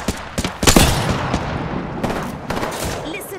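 Gunfire in Apex Legends, a burst of rapid close shots followed by further bursts and bullet impacts, loud and sharp against the match's ambient noise.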